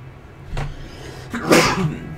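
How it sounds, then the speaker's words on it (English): A sneeze in the middle of a fantasy game's spoken monologue, with a short sharp burst near the half-second mark and a louder, fuller explosive sneeze around 1.5 seconds, close to the microphone. "Didn't want to sneeze during his monologue there."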